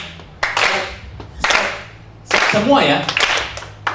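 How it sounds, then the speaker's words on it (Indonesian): A church congregation at a youth service clapping together on a counted cue: three separate bursts of group clapping, each a short flurry of sharp hand claps, with a leader's voice speaking between them. "Kemudian kita tepuk tangan dulu ya."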